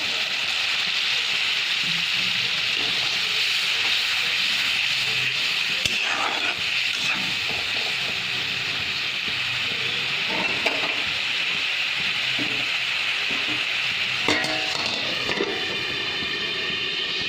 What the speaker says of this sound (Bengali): দু থেকে তিন মিনিটের মতো মিডিয়াম ফ্লেমে মশলাটা আমি কষিয়ে নেব